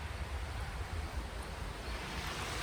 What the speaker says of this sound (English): I can hear water running